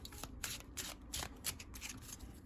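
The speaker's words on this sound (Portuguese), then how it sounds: "Já vou embaralhar aqui." Oracle cards are riffled and shuffled by hand in quick repeated bursts of papery flutter, close and fairly loud, with no talking.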